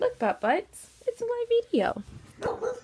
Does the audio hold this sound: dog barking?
yes